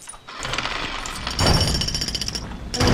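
A drill runs in the Lego Jurassic World video game, a loud, rapid hammering rattle that churns continuously and swells partway through, heard alone without talk.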